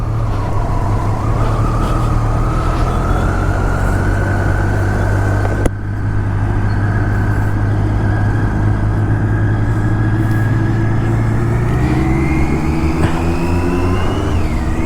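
A Triumph Daytona 675R sport motorcycle riding along a road, its engine droning steadily and loudly up close with a rising pitch toward the end as it accelerates, wind rush throughout, no talk.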